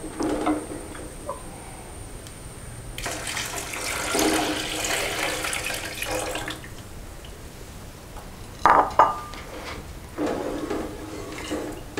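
Second-extract coconut milk is poured into simmering lentil payasam in a Kerala kitchen, heard as a close, steady liquid splash and rush that stops and starts, with a few clinks of a vessel.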